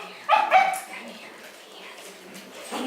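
Six-week-old puppies barking for attention, two sharp close yips in quick succession followed by softer whimpering noises, with a person talking.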